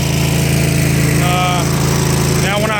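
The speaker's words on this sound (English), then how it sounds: "Now when I close it, listen to the sound of the engine." Gas engine of a 5.2 gpm pressure washer running loud and steady with a rapid rhythmic thrum, close by, while a voice speaks briefly over it.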